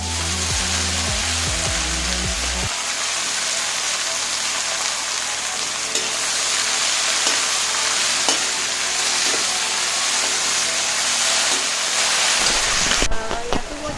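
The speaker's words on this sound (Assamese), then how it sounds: "সেইখিনি ঢেকীয়া ভাজিম।" Fiddlehead fern (dhekia) fries in a pan with a loud, continuous sizzle and crackle, while occasional scrapes of stirring come through. The sound stays steady throughout, with a brief low thump near the start and a knock near the end.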